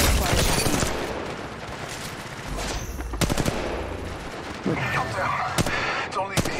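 Gunfire in the mobile shooter Apex Legends Mobile: loud bursts of rapid automatic shots and scattered single cracks, close and chaotic, with a voice talking under parts of it.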